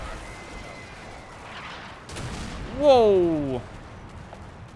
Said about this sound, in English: whoa, we're taking fire